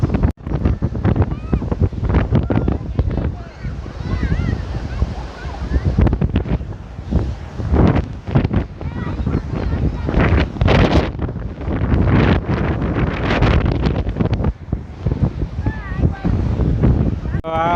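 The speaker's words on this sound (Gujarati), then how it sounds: "પણ પાણી મોજાઈ સારા ફાસ્ટ આવે છે, એવા નથી કે ધીમું ધીમું આવે છે, એમ ફાસ્ટ મોજા આવે છે." Fast waves break and wash ashore at Mandvi beach in Kutch in repeated rushing surges, with heavy wind buffeting the microphone and a voice talking over the surf.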